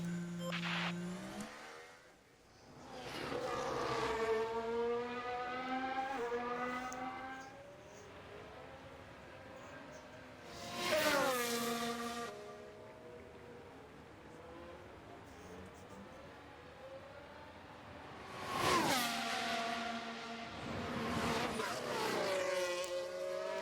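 Formula 1 car engines in the racing video game F1 Manager 23 drone steadily and rise and fall in pitch as they accelerate and shift, with three loud bursts as cars rush past.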